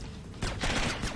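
A short burst of rapid video game gunfire from Splinter Cell, a brief rattle of several shots following a moment of quiet, moderately loud and up close.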